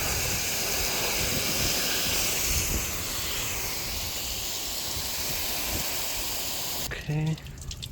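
A steady, loud hiss of water sprays continuously over a Jeep Cherokee XJ being soaked to find a leak, with a brief voice at the end.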